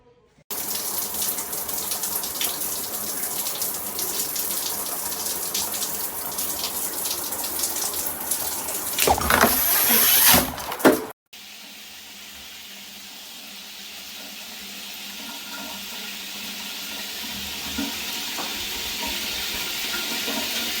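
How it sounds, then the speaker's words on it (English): A Jcrob 12-inch rainfall shower head with handheld combo sprays water in a steady, loud hiss that runs throughout, briefly surging louder before the flow drops to a softer, even stream. "Wow, this shower head works beautiful"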